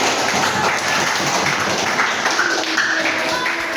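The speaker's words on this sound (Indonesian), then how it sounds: "Kita kasih tepuk tangan dulu buat kelompok-kelompoknya." Classroom of students clapping for the student groups after a lesson, a dense steady patter of many hands filling the room at close range, with no talk over it.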